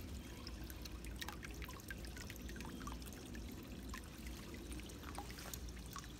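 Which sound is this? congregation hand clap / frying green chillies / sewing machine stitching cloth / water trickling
water trickling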